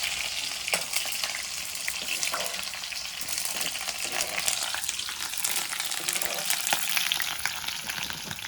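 Meat sizzles and spatters steadily in hot oil for Chinese-style frying, with occasional stirring clicks over a dense, continuous crackle.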